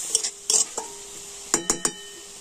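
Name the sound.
stirring grated beet and carrot with turmeric and salt in a pan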